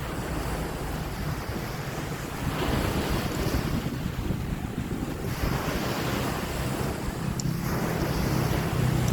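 A continuous roar of surf washing in and out on Jomtien Beach, Thailand, mixed with gusty wind buffeting the microphone, with no voices.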